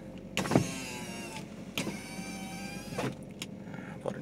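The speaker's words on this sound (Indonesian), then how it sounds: "kita coba untuk power Windows depan" Front power windows of a Timor car running, with several motor whirs rising and stopping in turn, each cut off by a clunk as the glass reaches its end, heard up close inside the car.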